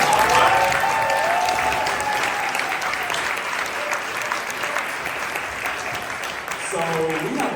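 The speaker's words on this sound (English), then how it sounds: "let's go ahead and give them a round of applause" An audience at a panel discussion gives a sustained, dense round of applause, loud and close, clapping steadily throughout before beginning to thin near the end.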